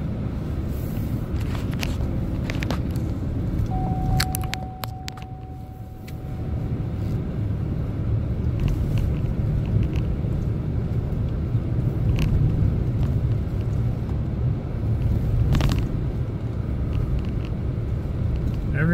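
A car rolls through plowed town streets after a snowstorm, with a steady road rumble and engine hum throughout, a brief dip partway and a few faint clicks, with no one talking.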